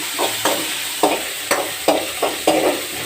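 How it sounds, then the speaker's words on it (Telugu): Green chillies sizzling in a hot pan with turmeric, a steady frying hiss broken by repeated sharp scrapes and stirs about every half second, close and moderately loud, with no talking. "పచ్చిమిరపకాయలు బాగా వేగినాయి"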